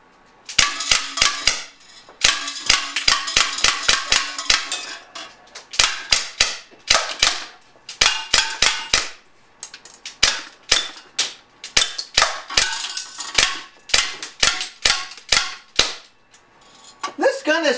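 Umarex Morph 3X CO2 air gun firing BBs, a long run of sharp loud snapping shots in quick bursts and singles, some ringing metallic pings from hits between them.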